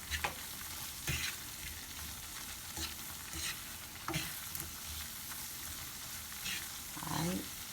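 Homemade gravy for cube steak sizzling and frying in a pan, a steady close crackle with occasional stirring scrapes and louder bursts throughout.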